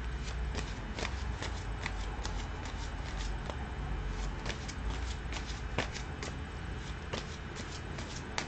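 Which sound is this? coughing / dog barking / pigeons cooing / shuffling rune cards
shuffling rune cards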